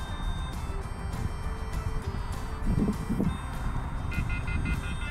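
A remote transmitter gives a steady run of short electronic beeps that repeats quickly near the end, high-pitched and clear over a low rumbling background.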